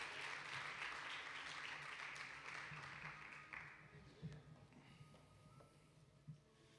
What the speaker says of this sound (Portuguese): Vamos aplaudir a Jesus pela banda